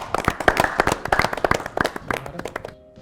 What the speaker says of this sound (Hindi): इन दोनों टीमों के लिए, बगावत और आजादी के लिए जोरदार तालियां।